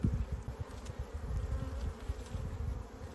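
A swarm of honey bees buzzing around an open beehive during an outdoor hive inspection, a steady dense drone close by with individual bees flitting past, continuous and moderately loud with no talking.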